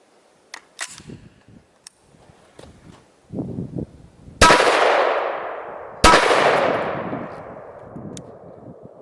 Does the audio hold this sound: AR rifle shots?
yes